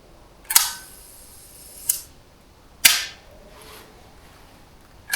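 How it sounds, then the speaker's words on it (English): Shutter of a Rapid Omega 100 6x7 medium-format camera firing indoors. Several sharp, close mechanical clicks are spaced apart, each followed by a short ringing decay, with quiet room tone between them. "so far the shutter is behaving itself today"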